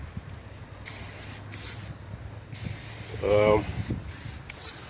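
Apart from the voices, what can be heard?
spraying Zep Foaming Citrus Degreaser on an engine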